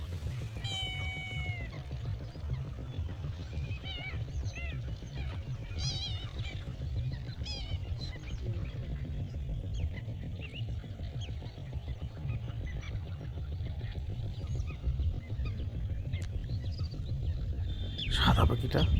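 Migratory waterbirds such as little egrets and spotted redshanks call at Purbasthali wetland in Bardhaman, West Bengal: scattered high, nasal chirps and mewing cries over a steady low rumble, with a louder burst near the end.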